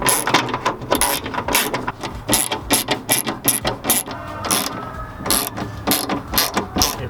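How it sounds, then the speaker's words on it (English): Rapid ratcheting clicks from a hand ratchet backing out 10mm bolts on a Mazda Miata window regulator inside the door, close and steady in repeated bursts with no talk. "I'm gonna try to hold the window up as I take these bolts out."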